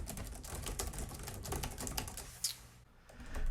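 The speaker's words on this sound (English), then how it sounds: "How does it sound when we're typing on a keyboard?" Quick, light clatter of keys on a computer keyboard at a desk, a rapid, uneven run of taps heard close and quiet, ending with a brief pause.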